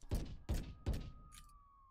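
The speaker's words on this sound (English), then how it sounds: "Right here, we have some gunshots." Gunshot sound effects layered in a short film mix: three heavy, booming shots about half a second apart with sharp attacks and low-end thump, then a faint high tone trailing off.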